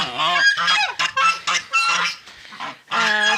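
Loud, repeated goose honks in quick irregular bursts, a raucous chorus of several birds calling close by with brief gaps between calls.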